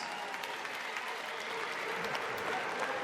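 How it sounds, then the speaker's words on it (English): Boxing arena crowd in upstate New York applauding two fighters after a 12-round bout: dense, continuous clapping from a large audience, steady and loud with a faint cheer underneath. "let's get an upstate New York round of applause for these two hard-hitting"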